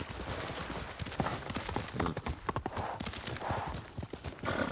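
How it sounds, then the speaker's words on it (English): Horse hooves clip-clop in an uneven walking rhythm in Ghost of Tsushima, close and clear, with faint ambient sound behind them. "they got the sound effects for the horse right too, like All the horse noises."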